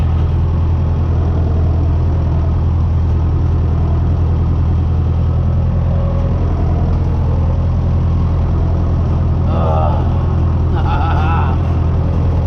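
A David Brown 996 vintage tractor engine drones steadily and low throughout, close and loud, heard from the driver's seat while driving, with a brief rattling clatter near the end.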